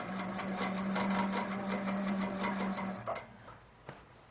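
A sewing machine runs steadily while stitching rows of quilting, a close rapid chatter with a hum for about three seconds, then stops, leaving a couple of faint clicks.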